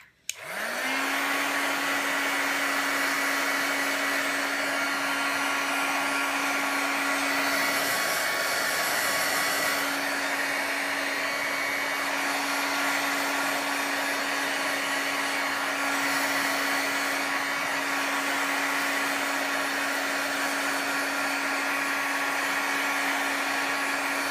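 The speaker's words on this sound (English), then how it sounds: "excuse me for a moment while I just bring in my heat tool" Heat tool blowing hot air to dry paint on a galaxy background artwork, switching on with a rising whine and then holding a steady, close, loud blowing hum throughout, with no talking.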